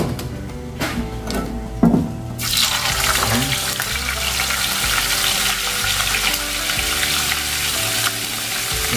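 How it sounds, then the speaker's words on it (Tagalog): Sliced kabasi fish frying in hot oil gives a steady close sizzle and crackle that starts suddenly and keeps going, with a few clatters from handling just before it begins. "So magprito muna tayo."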